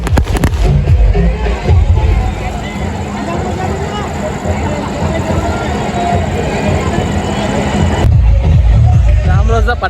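Dense strings of firecrackers burst at a village temple fair for Margubai Devi in Kadapur, crackling continuously and loudly with sharper bangs near the start and finish, while a crowd's voices mix in underneath.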